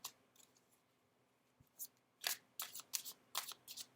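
Tarot cards shuffled by hand and one drawn, soft at first and then a quick series of crisp riffling slaps, close and quiet with no talking.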